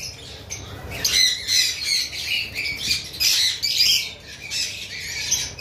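Pet birds at a bird farm squawk and chatter in repeated harsh bursts, close and loud, with several overlapping calls and no talking.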